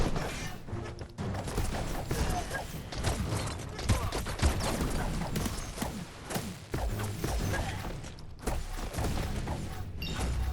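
Dense, busy gunfire and combat clatter from the action game Biomutant runs almost nonstop at a steady, moderate level, with short dips and brief gaps between shots.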